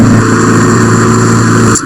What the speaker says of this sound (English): he's about to start the car now